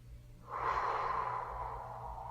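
One long, slow breath during a relaxed awareness meditation, a close, soft airy rush that swells after half a second and fades gently over nearly two seconds over a low background hum.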